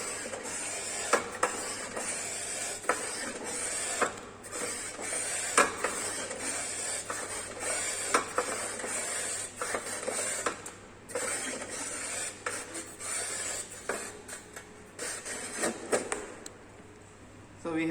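A foot pump raises pressure on a transducer setup. Repeated rasping pump strokes and air hissing come in uneven pulses over a steady low hum, and a few scattered clicks are heard.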